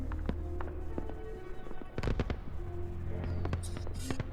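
Fireworks bursting in the video game Everything, a dense run of sharp crackling pops and bangs over a steady low hum, with the biggest cluster of explosions midway through.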